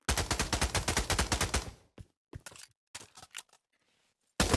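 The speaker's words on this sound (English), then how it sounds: "this gun sucks, Junior." Rapid automatic gunfire from the VR shooter Pavlov, a fast rhythmic burst of shots followed by several separate short bursts and single cracks with gaps of silence, then one more loud shot at the end.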